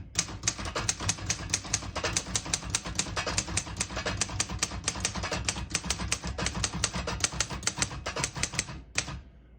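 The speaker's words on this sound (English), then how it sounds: "I'll type a sentence on the next line." A 1958 Underwood Star portable typewriter typing out a sentence: rapid, even keystrokes clack close to the microphone, ending in a final louder strike.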